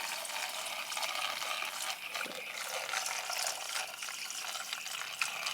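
Paint reducer for a home car paint job pours and splashes in a steady watery trickle in a garage, a continuous close liquid rush with a small spill splash midway, no talking.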